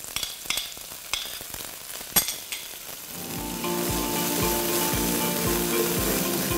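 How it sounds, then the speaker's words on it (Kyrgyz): Onion frying in vegetable oil in a pan, starting with sharp tapping and stirring, then a steady close sizzle with regular scraping strokes of a spoon. "Андан кийин биз пиязды кууруп алабыз бир аз."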